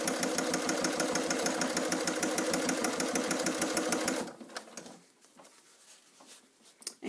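A sewing machine runs fast and steady down the side seam of a fabric bag, a loud rhythmic whirring that stops abruptly, leaving quieter handling clicks and rustles.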